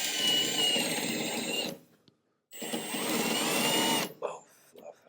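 Power drill boring a hole during installation of a Wixey digital planer gauge, two loud steady whirring bursts of about two seconds each separated by a brief pause, followed by faint handling noises.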